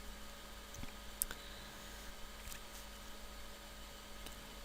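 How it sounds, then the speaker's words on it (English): The F5 key on a computer keyboard is pressed, giving a few faint, sharp clicks over quiet steady hiss. "I'm going to hit the F5 button on my keyboard to refresh"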